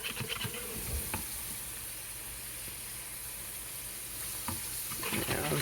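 Steady sizzling of pork frying in a pan for sweet and sour pork, a constant hiss with a few clinks and stirring scrapes near the start and end.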